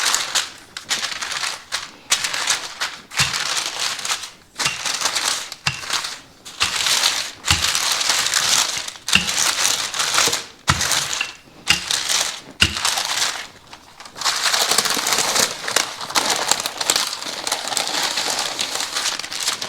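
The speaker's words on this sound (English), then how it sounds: "Then put your next piece of parchment on top, flatten it out a little bit, and we're gonna roll it." Keto pasta dough rolled between sheets of parchment paper, giving continuous crinkling and rustling in uneven strokes, close up with no talking.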